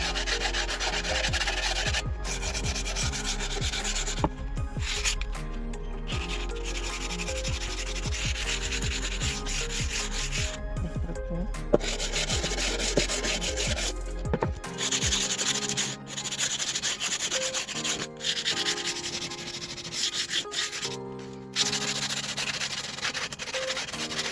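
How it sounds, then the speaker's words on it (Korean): Steady, close scratchy rubbing of sandpaper on the cut ends and edges of a scrap-wood tray, continuing back and forth without pause and with no talking. "양쪽 절단면을 사포질 했고요"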